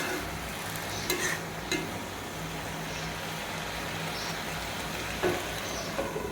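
Pumpkin, Malabar spinach and rohu fish are sautéed in a pan, giving a soft, steady sizzle and hiss with occasional light clicks of a spoon against the pan, fairly quiet and without talk.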